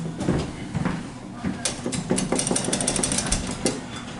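Hydraulic elevator motor at Macy's in Brunswick Square Mall, East Brunswick, New Jersey, a Burlington/Dover unit, running with a steady mechanical hum broken by irregular clanks and knocks, fairly close and moderately loud.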